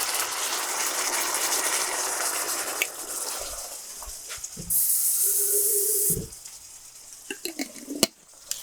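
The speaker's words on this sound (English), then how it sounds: "I always get a tiny bit of water in the jar and shake it" Water is shaken inside a Bertolli pasta sauce jar, making a dense, sloshing rattle for about three seconds. Scattered knocks, a brief hiss and small handling clicks follow.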